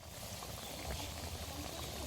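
Fish curry broth simmers at a boil in a pan, a faint, steady bubbling and gurgling with soft low burbles, close by and unbroken.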